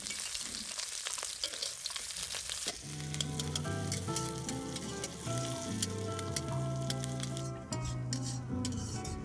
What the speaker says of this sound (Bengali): পেঁয়াজ একটু ভাজা ভাজা হয়ে গেছে